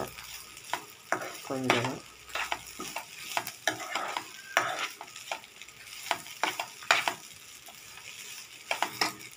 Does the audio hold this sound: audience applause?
no